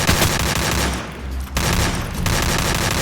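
Rapid automatic gunfire from the Free Fire shooter game, loud dense bursts filling the first second, a brief lull, then sustained volleys resuming to the end, with no talking.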